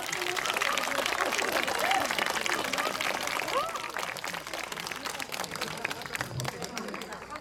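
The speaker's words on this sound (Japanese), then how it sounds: "関係者の皆さん、そして会場に来てくれた皆さん、演者の皆さんに改めて大きな拍手お願いします。" Applause and cheering from the crowd at a live autumn music festival performance, fairly soft and steady, with some crowd chatter mixed in throughout.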